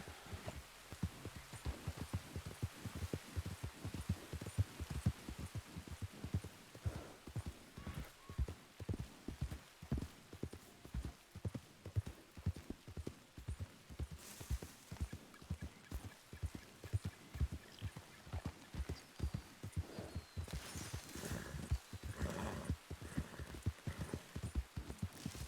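A horse's hooves clip-clop in a steady, even rhythm throughout a role-play video game, quiet and continuous, with occasional faint background noises.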